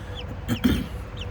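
A chicken gives a couple of short clucks close by, two quick bursts in an otherwise quiet moment.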